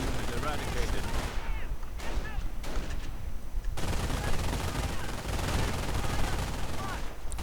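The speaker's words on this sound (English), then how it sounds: "Getting suppressed here by a second MG42 team." Sustained machine gun bursts from MG42 teams in a World War II strategy game battle, with dense rapid gunfire and scattered shots continuing throughout, loud and close, alongside other battlefield fire.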